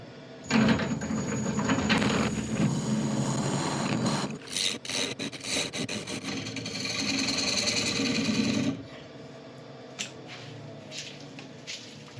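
A woodturning lathe cuts away a lump of yew, the tool producing a loud rough scraping and chattering hum in bursts, with brief pauses and a quieter stretch where the cutting stops near the end.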